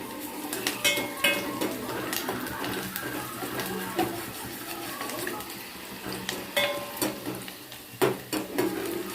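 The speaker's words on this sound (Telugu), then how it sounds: "1 మినిట్ తర్వాత కొంచెం చిటికెడు పసుపు వేసుకోవాలి. కలుపుకోవాలి." Stirring and scraping in a pan as a pinch of turmeric is mixed into cooking food, with light clinks of a utensil against metal over a soft sizzle, irregular close strokes throughout.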